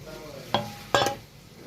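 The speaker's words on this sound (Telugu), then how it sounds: "అన్నాన్ని మొత్తం ఇలా కలుపుకొని పెట్టుకోండి ముందుగా వేయించుకున్న పచ్చిమిర్చి మినప్పప్పు" Gongura pulihora rice is mixed with fried green chillies and urad dal, giving two short, distinct scraping stirs over a quiet background.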